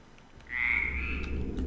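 A single frog croak in the video game Dark Echo, one drawn-out raspy call rising out of quiet and fading over about a second, with no voices.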